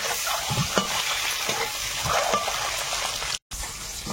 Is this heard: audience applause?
no